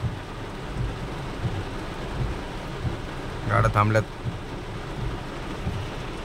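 Heavy rain pours steadily over a flooded road in Kalyan, a dense continuous hiss with low rumbling underneath, while someone briefly speaks partway through.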